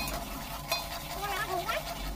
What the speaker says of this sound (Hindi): और अब मैं इसको भून लेती हूँ।